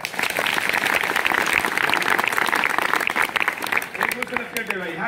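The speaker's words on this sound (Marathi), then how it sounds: "अरे टाळ्या कशा वाजवल्या पाहिजेत?" College audience clapping in a hall, a dense, steady burst of applause that runs loud throughout and thins slightly near the end, with a voice briefly audible over it.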